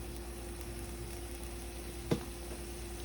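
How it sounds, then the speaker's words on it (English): Shrimp sauté in garlic butter in a pan for Benihana-style fried rice, giving a steady, moderate sizzle over a low hum, broken by a single sharp click. "saute the shrimp"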